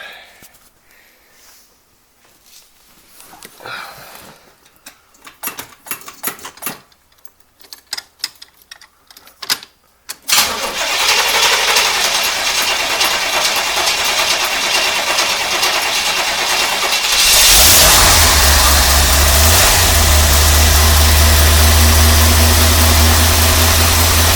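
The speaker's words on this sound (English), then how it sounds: "So this is a totally cold start, just plugged in the battery. We'll see how well it starts up." Long-unused 1981 Chevrolet Corvette C3 custom convertible cold starting with the battery just plugged in: ticking and clicking, then the engine catches into a loud steady rumbling idle that grows deeper and heavier near the end.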